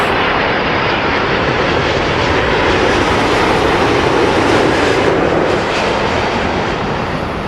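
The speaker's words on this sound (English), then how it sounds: "Dreamliner 787-10 and coming in from Abu Dhabi." A Boeing 787-10 Dreamliner arriving from Abu Dhabi at London Heathrow, its engines a steady, loud broadband roar that holds evenly throughout with no voices.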